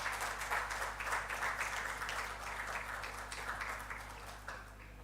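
An audience at a soil health conclave gives a round of applause, moderately distant clapping that stays fairly even throughout and eases slightly near the end, over a low steady hum.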